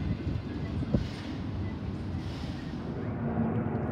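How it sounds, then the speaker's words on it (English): An Oscar passenger train runs past platform 3 at a suburban station, giving a steady, loud broadband rumble with faint wheel clatter that holds through the clip and swells slightly toward the end. "we have an Oscar passing platform number 3 for a Newcastle service"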